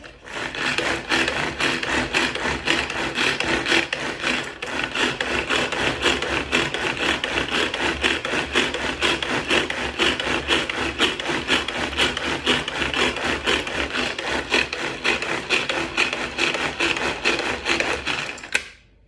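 A Tupperware Super Sonic Chopper whirs steadily as mayonnaise is mixed inside it, a continuous loud grinding, rubbing churn that keeps up unbroken for about eighteen seconds before stopping abruptly at the end.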